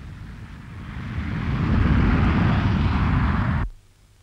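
A military jet passes low over a motorway with a loud, swelling engine roar that peaks midway, then cuts off abruptly, no voices heard.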